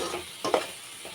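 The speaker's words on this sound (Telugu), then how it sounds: "చూడండి, తోటకూర అయితే బాగా ఫ్రై అయిపోయింది." Amaranth greens fry in a pan, giving a soft sizzle with a brief stirring scrape near the middle of the short stretch and no talking.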